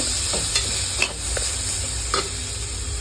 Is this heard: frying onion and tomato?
yes